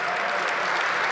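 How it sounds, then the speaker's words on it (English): Brief, loud burst of applause from a crowd, many hands clapping densely and evenly. "Give them a big round of applause."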